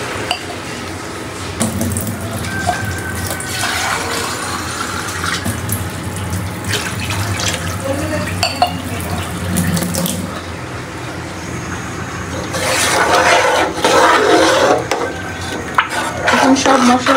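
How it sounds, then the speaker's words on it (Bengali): Water poured into a cooking pan over fried ginger and garlic spice paste, a splashing, bubbling pour that grows louder near the end, with clinks of utensils and brief stirring. "এখানে আমি পরিমাণ মতো পানি অ্যাড করে দিব"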